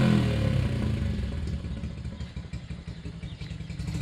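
A Yamaha Byson motorcycle fitted with a Yoshimura exhaust, revving hard and then settling into a rough, clattering idle, loud and close throughout with no voices.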